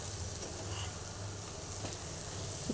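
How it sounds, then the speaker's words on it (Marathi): Masala for shipi amti sautéing in hot oil, a steady close sizzle and crackle running the whole time with faint stirring and no voices. "अशी परतून घेते मी हे सगळा मसाला"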